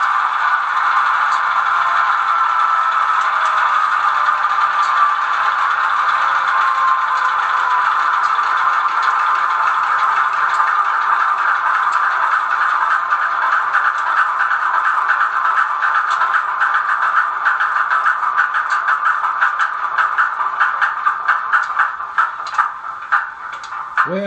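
Shutdown sequence of an ESU LokSound B23-7 diesel locomotive sound file: a steady engine drone that holds for a long stretch, then grows rattly and uneven before cutting off at the end, close and loud, with no voices.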